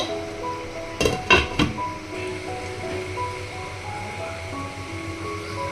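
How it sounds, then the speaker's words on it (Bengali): A metal lid set onto a pot of spicy pabda fish curry, giving a few quick close clinks and clatters in a burst, then quiet kitchen ambience with a faint steady hiss. "এবার আমি ঢাকনাটা দিয়ে আঁচে বসিয়ে দেব"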